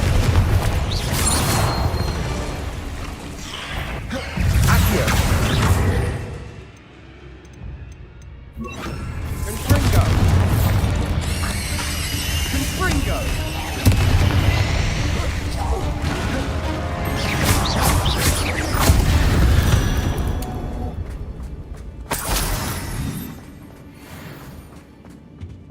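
Hogwarts Legacy spell combat brings clustered bursts of crashing booms, smashes and whooshes, loud and dense, broken by brief lulls, with game voices mixed in.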